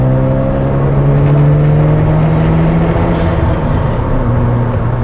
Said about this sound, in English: The biggest thing is you can hear the blow-off valve